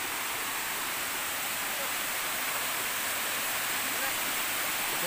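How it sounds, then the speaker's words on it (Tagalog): Waterfall on Iling Island, Magsaysay, heard from above at the top of a mountain: a steady, dense rushing roar of falling water, continuous and fairly loud throughout, with no other sound standing out. "So sa baba, dyan yung bagsakan ng tubig."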